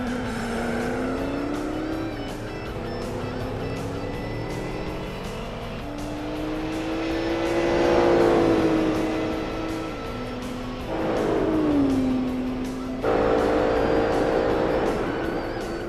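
A race car on cold tires laps Laguna Seca in Gran Turismo 4, its engine note climbing and falling through gear shifts, with a drop-off under braking and a sudden surge of power back out.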